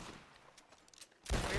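Video game gunfire: faint scattered shots, then a loud, dense burst of rapid fire in the final moments.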